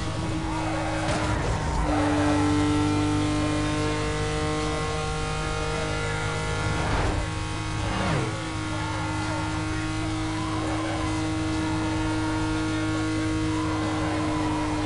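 A car's engine drones loudly and steadily in the racing game Need for Speed Most Wanted, a constant tonal hum with brief whooshes and gear-change swells, while someone talks over it.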